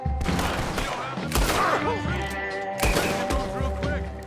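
Gunfire from a Western shootout in the video game Red Dead Redemption 2, dense and continuous under a loud layered game soundtrack and other effects, with sharp reports breaking through around the middle.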